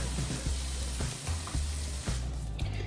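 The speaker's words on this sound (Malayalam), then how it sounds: "നമുക്ക് കടുക് വറുക്കണം." Mustard seeds fry in hot oil, sizzling steadily with small irregular pops and crackles, close up and fairly loud, with occasional clicks of a pan.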